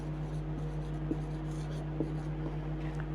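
Marker or chalk writing on a classroom board during a math lesson, a few faint scratchy strokes over a constant electrical hum, with no talk.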